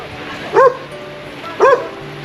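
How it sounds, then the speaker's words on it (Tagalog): A big dog barks twice outdoors, two short loud woofs about a second apart over a steady background hum. "Grabe, sinusundan tayo ng malaking aso"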